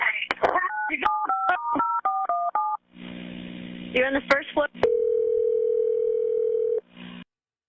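Phone keypad touch-tones beep in quick succession during an emergency call as a man asks a question, then a steady dial tone hums after the line is hung up, loud and close.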